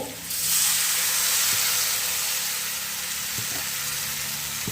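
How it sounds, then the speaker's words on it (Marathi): Water is poured into a hot tempering of oil and turmeric for pithla and bursts into a loud, close sizzle and hiss that stays strong and steady throughout, with a few faint clinks. "आता हे जे पाणी केलेलं आहे ना हे यामध्ये टाकते"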